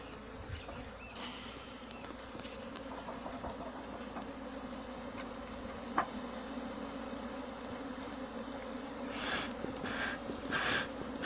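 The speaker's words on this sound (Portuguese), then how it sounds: "O ideal é que a gente agora feche esse ninho e dê uma fumigada ali para que essas abelhas voem e venham todos para o núcleo" Honeybees disturbed by smoke from a fumigator, flying around an opened wild nest during capture into a nucleus box; a steady dense buzz fills the scene, with a few louder passes of individual bees close by near the end.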